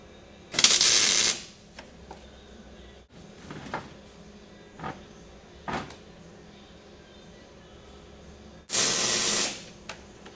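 A welder tack welds a hood on a Wheel Horse garden tractor, with two loud sustained bursts of crackling arc near the start and end of the clip and a few soft clanks of handling in between.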